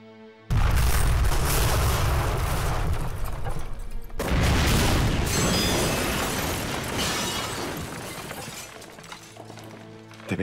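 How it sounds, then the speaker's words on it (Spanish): Large explosions in a war drama, with a sudden loud blast and shattering debris, then a second heavy boom that rolls on and slowly fades, with no talk over the rumble. "La explosión comenzará con mi señal. Deben explotar en 2 minutos."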